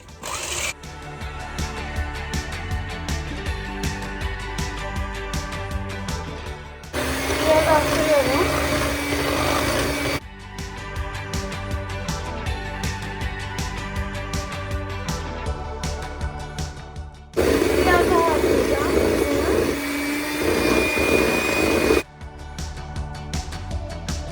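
An electric hand mixer on its lowest setting whips cream for a fruit parfait, its steady whirring buzz coming in two separate bursts of several seconds each over background music.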